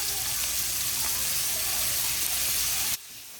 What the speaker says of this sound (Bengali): বিনসগুলো একটু আগে ভেজে নিই